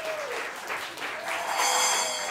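A concert crowd at a live session in Brussels claps and cheers loudly and continuously, with the applause swelling slightly toward the end.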